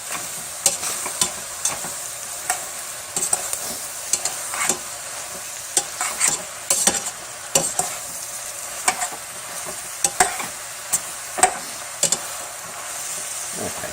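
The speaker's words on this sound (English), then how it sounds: "we're going to saute these" Shrimp or oyster mushrooms sautéing in a pan for a scampi and risotto dish: a steady frying sizzle with repeated sharp clicks and scrapes of a spoon stirring, close and fairly loud, no talking.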